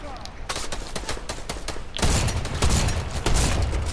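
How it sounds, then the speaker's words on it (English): Shotgun blasts in a video game ring out as loud, booming shots over a dense, noisy firefight, with a heavier burst of firing in the second half and faint talk underneath. "this is a short range shotgun"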